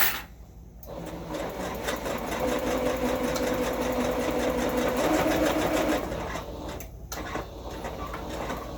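A sewing machine puts a few securing stitches into fabric, a close, steady rapid mechanical whir that runs for several seconds and then slows and stops, with brief clicks at either end.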